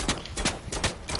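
Horse hooves clip-clop in a video game, a quick, even run of hoofbeats close up and clear over a brief stretch.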